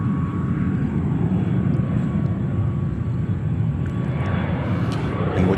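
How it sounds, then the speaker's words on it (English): A Delta A220 airliner passes overhead near JFK Airport in New York, a loud, continuous broadband engine roar that holds steady throughout with no talk over it. "what you hear right now, flying over us, is a Delta 220."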